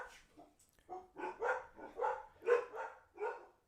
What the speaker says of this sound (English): Goddamn dogs barking at everything